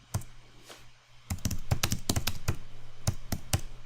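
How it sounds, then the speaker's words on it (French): Keys clatter on a computer keyboard, with a few isolated taps followed by a quick burst of close, crisp keystrokes and no voices. "dès que j'enfonce la touche entrée sur le clavier, ça passe directement en style body"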